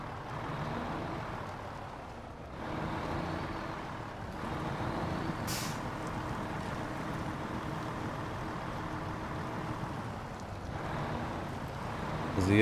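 A heavy off-road truck in SnowRunner grinds steadily along a rocky, uneven track, its engine droning and the load rumbling continuously at close range, with a brief hiss of air in the middle and a rising surge at the end.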